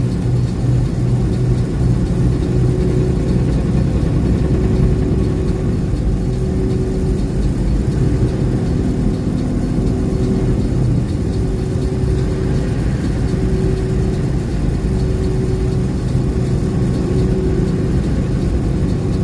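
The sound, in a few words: 2020 Kenworth T680 truck engine idling and revving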